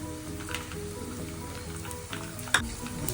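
Hot oil sizzling and crackling steadily as dried red chillies, garlic, curry leaves and asafoetida fry for an amla pickle, with a brief sharp clink of a utensil near the end; no talking.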